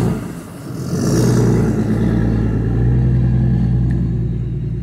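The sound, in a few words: truck pulling a trailer driving by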